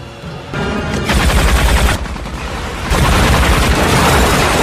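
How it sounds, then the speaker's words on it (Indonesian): Loud, dense bursts of automatic machine gun fire as a hitman tests his weapon, the rapid volleys swelling in stages and running continuously without any voices. "Jekyll berencana untuk menguji senjata mesinnya sekaligus melenyapkan si mekanik"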